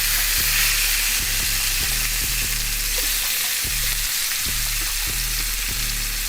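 Meat sizzles loudly and continuously in a hot pan, a dense crackling hiss with faint low clicks underneath. It is close and nothing else is heard.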